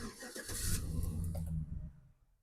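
Chevy Silverado engine cranking and catching, a short burst of starter whir and ignition rumble that settles toward a low idle and fades within about two seconds.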